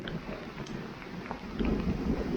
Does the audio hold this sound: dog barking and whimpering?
no